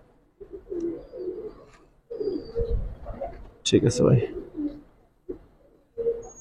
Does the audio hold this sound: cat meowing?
no